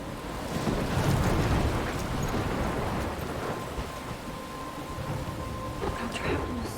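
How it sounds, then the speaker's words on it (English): A thunderstorm rages in the Life Is Strange video game, with dense steady rain and wind, rumbling bursts of thunder, and a roaring, surf-like wash throughout, loud and continuous with no talking. "I'm trapped in a storm?"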